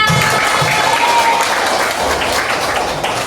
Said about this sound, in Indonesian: tepuk tangan untuk Pada.